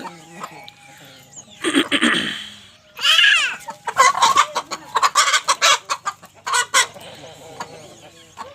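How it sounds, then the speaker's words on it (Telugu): Short-nosed long-tailed hens cluck and squawk in busy, uneven bursts close by. A person talks quietly in the background. "ఇంకా ఫ్రెండ్స్ ఇది మూడో పెట్ట"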